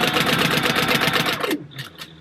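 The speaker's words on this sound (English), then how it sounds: "with a 4 stitch length, you're going to want to sew right down the center of your D-ring" A sewing machine runs fast and steady, stitching down a D-ring flap on a fabric food box, then stops abruptly and a few faint clicks follow.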